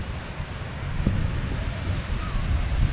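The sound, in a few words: big ocean waves on a beach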